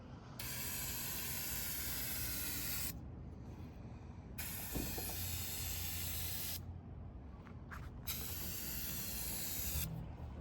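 Turbo can spray gun laying primer onto a Mercury Monterey S-55 outdoors, a loud steady hiss in three long bursts separated by short pauses, close to the microphone with a faint low hum beneath.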